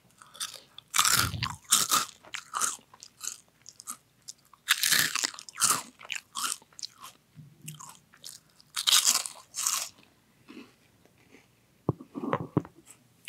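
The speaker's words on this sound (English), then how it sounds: "Hear the crunch." Doritos 3D snack chips crunched up close in repeated loud bites, the chewing coming in bursts with short pauses between mouthfuls and no talk.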